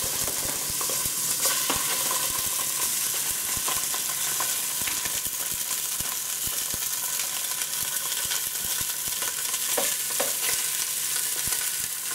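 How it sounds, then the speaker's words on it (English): Colosimo's mild Italian sausage browning in a pan, a steady continuous sizzle and frying crackle with occasional stirring scrapes and clicks, close and even throughout with no talking. "We need to brown that as well. And so we'll put that in the pan next."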